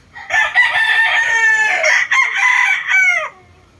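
A pure Milsim gamefowl rooster crows close by, one long, loud, strained cock-a-doodle-doo lasting about three seconds with brief breaks in the call, then quiet.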